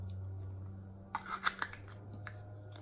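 A hybrid trimmer tool trimming a leather-hard pottery bowl: a brief cluster of crisp scraping and shaving rasps in the middle, close and fairly quiet, over a low steady hum.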